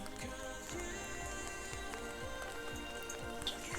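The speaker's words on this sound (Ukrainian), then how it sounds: "дощик хоч спокійніший вже" Gentle spring rain patters steadily, with individual drops tapping nearby in an uneven rhythm.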